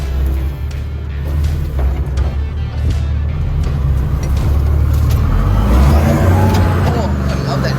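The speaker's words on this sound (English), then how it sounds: "That turbo power picks up so nicely." A turbocharged vehicle engine, its turbo power building as it accelerates, roars steadily and loudly up close for several seconds with a rising tone toward the end, heavy road rumble underneath.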